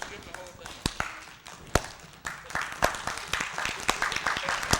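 A comedy-show audience bursts into scattered clapping and laughter, sharp irregular claps building into a denser patter of applause in a live room, with some crowd voices mixed in.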